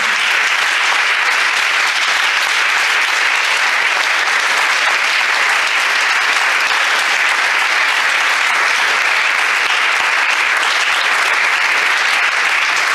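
A church congregation claps loudly for Jesus during a Sunday service, a dense, continuous roar of applause that holds steady throughout without a break.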